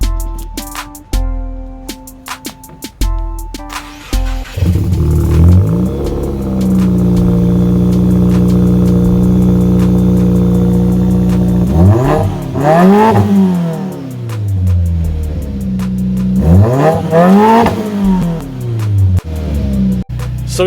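A 2019 Subaru WRX engine with a stage 2 tune revs hard to redline several times, climbing sharply to a high-pitched peak and falling back, loud and close, after some clunks and an idle.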